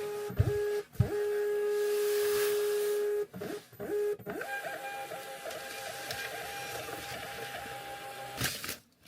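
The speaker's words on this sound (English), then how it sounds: "It's quite a tedious label printer." A small label printer whirs and buzzes in steady tonal bursts, stopping and restarting several times with brief clicks between runs, close up in a quiet room.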